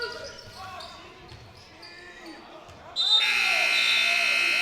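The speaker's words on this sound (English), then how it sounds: "The buzzer sounds. The first quarter has come to an end." A loud electronic buzzer ends the first quarter of a high school basketball game in a gym. It cuts in about two-thirds of the way through and holds steady after crowd noise and ball bounces.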